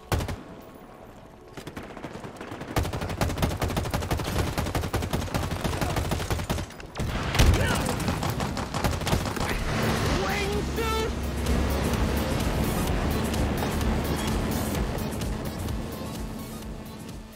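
Video game audio heard through OneOdio Monitor 80 open-back headphones: a dense, loud, continuous mix of rapid gunfire bursts and rumbling effects runs throughout, with no clear talking.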